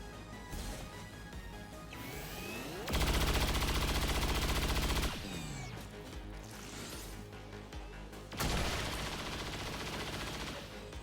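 Sustained bursts of cyclic automatic gunfire in XCOM 2, two loud dense volleys of rapid shots, each lasting a couple of seconds, with crashing impacts and game effects between them.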